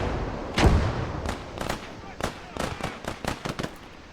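Machine gun bursts and cannon blasts ring out in a video game battle: one heavy boom, then a string of sharp, irregular shots at mid distance.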